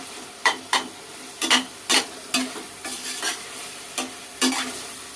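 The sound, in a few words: tomato and pepper paste sautéing in pan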